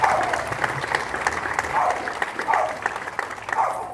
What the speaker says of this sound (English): I'll tell them you gave them a real good round of applause if you do